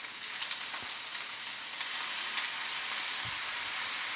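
Pineapple fried rice stir-fried in a pan, giving a steady, close sizzle with faint scraping and stirring noises throughout and no voices.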